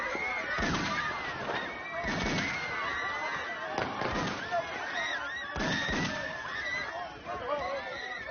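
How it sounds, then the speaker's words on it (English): Gunfire aimed at people during a chaotic armed confrontation, several heavy bursts of shots spaced a second or so apart over a constant roar of background noise, with frightened voices shouting throughout. "They're shooting people!"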